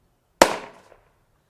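A compressed-air blood splatter rig firing to mimic a gory shotgun blast: one sharp, loud, close pop with a short spattering decay, alone in near silence.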